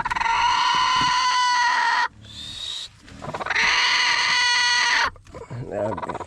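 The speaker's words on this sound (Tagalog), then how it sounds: "iingay po yung manok" Chickens give loud, drawn-out calls with strong harmonic tones close by, broken by a short pause, then another long call and softer clucking at the end.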